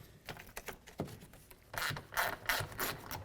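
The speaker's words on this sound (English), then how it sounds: "you're going to need a 10mm ratchet or a wrench, and you're going to want to loosen up these 3 bolts" A 10mm ratchet loosens the side mirror bolts on a 2008-2012 Ford Escape, giving a quiet run of quick mechanical clicks in short bursts. The ratcheting grows louder and denser toward the end, heard close up and alone.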